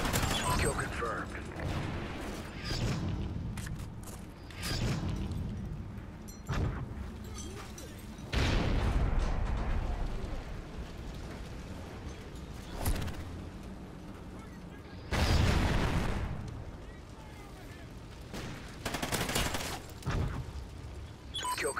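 Gunfire and explosions from Call of Duty: Ghosts in a multiplayer clan match, rapid bursts and heavy booms rolling on throughout, with voices talking over the game sounds.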